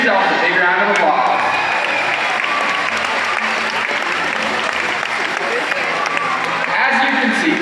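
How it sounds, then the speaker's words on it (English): A large audience at a SeaWorld San Antonio orca show claps continuously, a dense steady wash of applause with scattered voices and cheers mixed in, loud throughout. "give yourselves a big round of applause"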